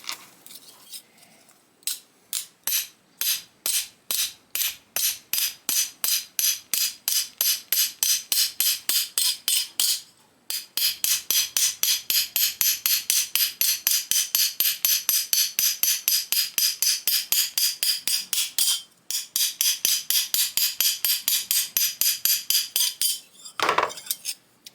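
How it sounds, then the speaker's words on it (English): Rapid, evenly paced metallic hammer strikes ring against a dolly as a steel autobody panel is shaped and polished, dozens of bright clinks in long runs broken by short pauses, close and alone. "every hit is going to transfer the polish from the hammer and the dolly onto the steel"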